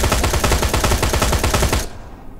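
Rapid automatic gunfire in the Terminator Resistance video game, a loud, tightly spaced burst of shots lasting under two seconds before cutting off abruptly to quiet.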